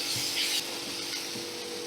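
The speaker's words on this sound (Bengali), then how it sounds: "দু মিনিট দেখো আমি এইভাবে ভাজা করে নেব।" Onions frying in a pan, a steady close sizzle with a brief louder scrape of stirring near the start, then an even hiss without talk.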